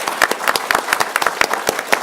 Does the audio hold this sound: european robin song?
no